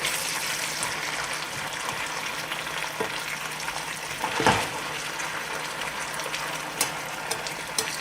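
Sliced potatoes for a Spanish tortilla frying in a pan, a steady close sizzle and crackle that holds evenly throughout with one brief stir or clatter near the middle, no talking.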